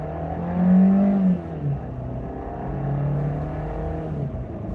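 A car pulls away from a green light, its engine note rising and dipping through gear changes, heard from inside the cabin as a steady low drone without talk.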